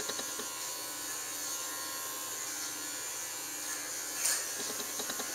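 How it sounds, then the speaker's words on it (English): Electric clippers trim a dog's fur while the coat is squared off in grooming, a close, steady high buzz with a brief louder surge near the end and no speech. "over here, I'm going to square it off a little bit with my clipper"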